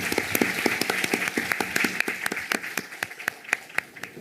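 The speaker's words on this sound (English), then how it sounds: "Let's give a warm applause to welcome Professor Gunn." An audience applauds to welcome Professor Gunn at a global unity event, brisk, dense clapping with sharp individual claps standing out, steady throughout and fairly close.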